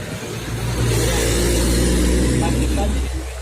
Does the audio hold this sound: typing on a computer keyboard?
no